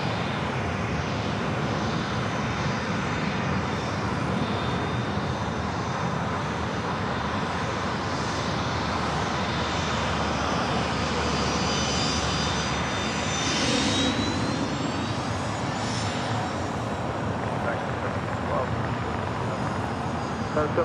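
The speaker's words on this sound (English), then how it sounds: "737-800 heading up to the north side" Steady jet roar from a Southwest Airlines Boeing 737-800 at LAX fills the whole stretch, a broad, unbroken engine rumble at moderate distance with a faint rising whine toward the middle.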